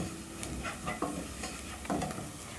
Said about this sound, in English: So I'll cook them with the onions and garlic and ginger.